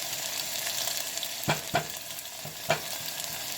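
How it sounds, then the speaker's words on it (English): A pan sizzles steadily with food sautéing for Puerto Rican style beans, the soft hiss continuous while a few distinct scraping stirs or clinks land close by in quick succession. "Let it saute for a little bit."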